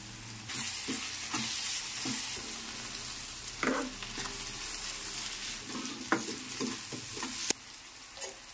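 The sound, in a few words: curry leaves and onion frying in oil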